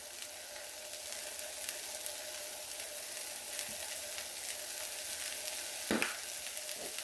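Broccoli sizzles steadily in a hot pan, a constant close frying hiss throughout with a brief louder clatter of stirring near the end.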